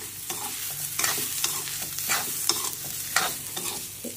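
Rice roasting in a little oil with capsicum for masala rice, stirred steadily with a spatula that scrapes and rustles in repeated strokes over a light sizzle, close and clear, with no speech.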